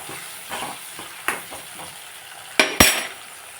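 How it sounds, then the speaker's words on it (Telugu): Coriander, curry leaves, onion and green chillies fry in a pan, a steady low sizzle broken by a few scrapes and spoon knocks, with two sharp louder clatters near the end. "కొత్తిమీర, కరివేపాకు, ఉల్లిపాయ, పచ్చిమిర్చి వేసి వేపుతున్నా."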